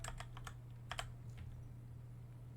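A computer keyboard clacks in a short burst of quick keystrokes followed by a couple more taps, faint and close over a low steady hum.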